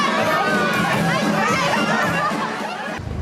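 Fans cheering and calling out at the Cannes film festival, a dense, loud crowd din of shouts and chatter throughout, busy and close.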